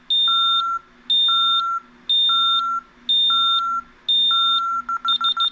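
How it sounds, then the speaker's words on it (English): An Ademco (Brinks Safewatch 3000) alarm keypad sounds its exit-delay warning, with five evenly spaced loud electronic beeps about a second apart, then a quicker burst of rapid beeps near the end of the countdown, all close and with no talk. "Remember, it has that double, triple beep."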